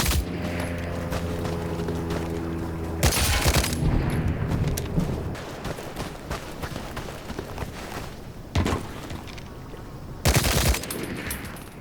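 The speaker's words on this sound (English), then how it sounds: "This is my first game, just getting used to the guns." Gunfire rings out in the video game Hell Let Loose: Vietnam, with loud bursts of rapid automatic fire near the start, middle and end over a constant rumbling battlefield din and scattered distant shots.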